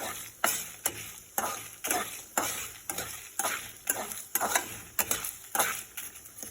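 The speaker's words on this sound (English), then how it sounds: "here I am adding 5 to 6 red chillies, dried one" Coriander seeds, chana dal and dried red chillies are dry-roasted in a pan, stirred in a quick regular rhythm of soft rattling scrapes, close and fairly quiet.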